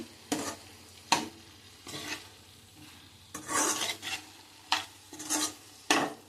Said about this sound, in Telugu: చికెన్ బాగా మగ్గనిద్దామండి ఒకసారి కలుపుకుందామండి